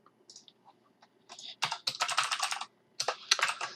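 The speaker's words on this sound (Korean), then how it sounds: "열심히 입력을 하다가 키보드로 입력을 하다가" Typing on a computer keyboard, with a few scattered taps that build into quick clattering runs of keystrokes, close and moderately quiet, with a brief pause before a final burst.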